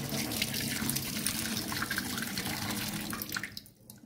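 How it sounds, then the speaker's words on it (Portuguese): Cajá fruits washed one by one under a running tap, a steady rushing stream of water with splashing throughout and a brief easing of the flow at the end. "a primeira coisa que nós vamos fazer é lavar o cajá. Aqui, ó. Lava um por um, bem lavado."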